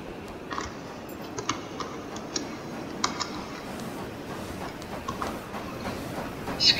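Steady rolling train noise from a Roblox Wild West game, with rhythmic clicking of wheels over rail joints and faint higher ticks, continuous and moderately loud throughout.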